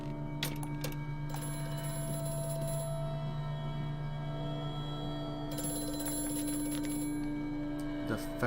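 A telephone rings in the factory offices in the horror game Amnesia: A Machine for Pigs, a steady ringing tone over a low ambient hum with two louder bursts, faint and with no voice over it.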